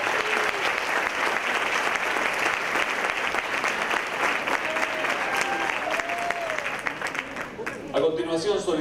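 A seated audience at a graduation oath ceremony gives sustained, dense applause for the graduates, steady and loud throughout before thinning at the end as a voice begins speaking.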